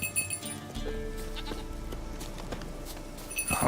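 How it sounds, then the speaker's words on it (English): A goat bleats in The Witcher 3: Wild Hunt, with several harmonic calls standing out over a steady game-world ambience and scattered thuds, alone without talk. "Here, goat. Here, princess."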